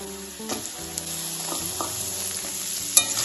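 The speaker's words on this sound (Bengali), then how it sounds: "উচ্ছেগুলো বেশ ভালোভাবে ভেজে নিয়েছি এবার আমি এর মধ্যে দিয়ে দেবো সজনের ডাটাগুলো" Bitter gourd pieces and drumsticks fry in hot oil for a bitter dal. A steady close sizzle runs throughout, with occasional scrapes and clinks of stirring.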